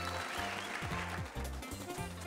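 Applause from the video game Super Mario 3D World, a brief synthetic clapping burst over the game's tonal, stepping background music.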